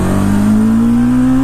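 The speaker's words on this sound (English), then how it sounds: "That inline 4 is incredibly smooth." Steady, loud engine drone from a 1980 Suzuki GS750 inline-four motorcycle, pitch climbing smoothly as it revs up, heard up close and alone.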